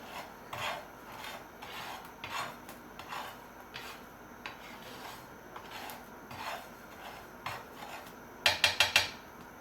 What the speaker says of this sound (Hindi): अब इसके अंदर हम हल्का हल्का सा चमचा चलाते रहेंगे हर थोड़ी देर बाद